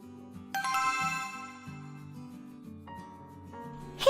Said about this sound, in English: I've been ringing the doorbell for like 20 minutes already.